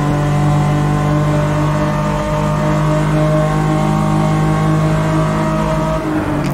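A race car engine in the sim racing game Automobilista 2 howls at full throttle, a loud, sustained high-revving drone that holds steady with its pitch climbing slightly.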